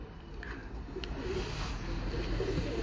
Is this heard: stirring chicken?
no